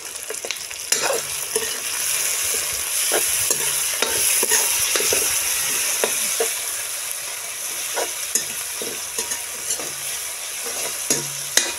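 Onion, tomato, salt and cashews frying together in a pan for a Rajasthani paneer dish, a loud continuous sizzle with frequent knocking strokes of a spoon stirring throughout, close and without speech.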